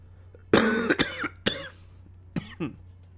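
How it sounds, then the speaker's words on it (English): Several short, sharp coughs from one person, sounding close and dry, come in two clusters with a brief pause between them and no talk over them. "I am still coming back from being sick, so I'll be coughing occasionally"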